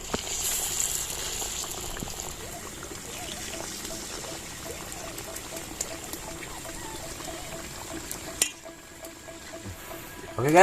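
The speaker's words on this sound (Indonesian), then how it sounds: "Kita campurin ininya guys, biar langsung digoreng." Taro pieces sizzle steadily in hot oil over an outdoor cooking fire, a dense continuous crackle that runs loud and even before briefly dropping away near the end.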